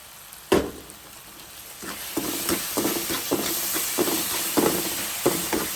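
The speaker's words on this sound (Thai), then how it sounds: "ผัดให้เข้ากันค่ะ" Rice noodles with chili stir-fried in a hot pan sizzle steadily, broken by one sharp clank near the start and then a regular run of spatula strokes roughly every half second, close and without talk.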